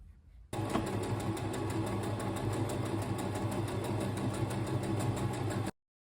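A sewing machine stitches a kimono collar from the neck end down to the collar tip, a steady close mechanical whir that starts after a brief pause and runs evenly for about five seconds before stopping abruptly.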